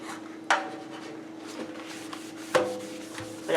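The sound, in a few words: scrubbing caulk off a kitchen sink with a rubber toothbrush end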